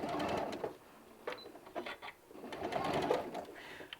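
A domestic sewing machine runs in short bursts of rapid mechanical stitching while sewing a fabric drool bib, with brief pauses between runs, close and fairly quiet.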